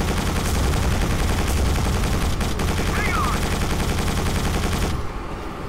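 Dense, continuous gunfire and missile blasts from the video game Quake 4 roar loud and steady for several seconds, then drop sharply near the end.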